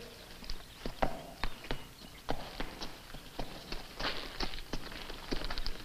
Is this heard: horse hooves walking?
yes